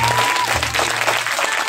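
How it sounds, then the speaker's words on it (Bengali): An audience in a college auditorium breaks into brief, dense clapping after a student one-act play, loud and close throughout. "ওর জন্য একটা বড় হাততালি হোক"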